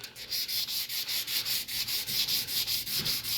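A 600-grit sanding pad lightly scuffs a clear-coat-ready painted surface in quick, even back-and-forth strokes, a close, steady hissing rub that pulses about four times a second with no voices.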